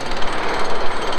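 A loud, continuous rapid hammering of a jackhammer breaking concrete on a bridge, heard up close without pause and with no talking.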